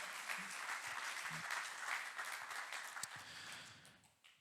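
A church congregation applauds during a worship celebration, the dense clapping holding steady before fading out near the end, with faint voices beneath.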